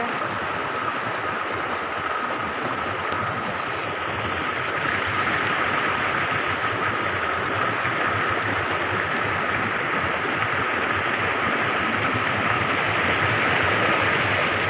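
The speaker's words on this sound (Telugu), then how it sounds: "సెకండ్ టైం డ్రాప్ దగ్గర అయితే వాటర్ మామూలుగా వస్తలేవు సౌండ్ కూడా ఫుల్ వస్తుంది" Stream water rushing over the second drop of a waterfall, a loud, steady, full roar that stays close and constant throughout, with no voices.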